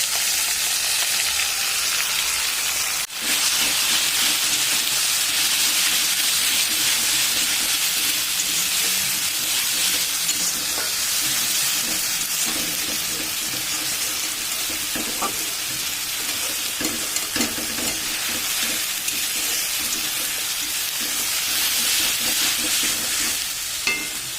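Onions with a ginger, cumin, garlic and dried and green chilli paste fry in a pan, a steady loud sizzle running throughout with scattered clicks and scrapes from stirring.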